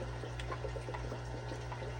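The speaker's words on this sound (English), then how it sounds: "Let's get some water." Water runs steadily from a tap or pump to fill containers for aquarium fish, a constant low trickle over a steady hum, faint and unbroken, with no voices.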